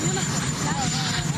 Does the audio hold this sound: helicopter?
yes